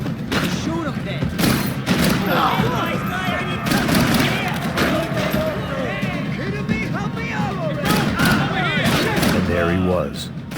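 Gunfire crackles through a firefight in the video game Max Payne 3: repeated loud shots and thuds over a steady roar, mixed with voices talking.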